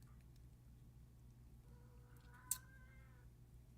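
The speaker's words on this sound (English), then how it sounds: "the cat's yelling at me for that" A house cat lets out one drawn-out, complaining meow, fairly quiet and a little distant, over a low steady hum with a small click partway through.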